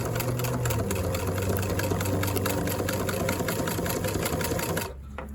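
A vintage Singer 66 sewing machine stitches through leather with a steady, loud mechanical whir and rapid rhythmic needle clatter, running continuously before stopping abruptly near the end.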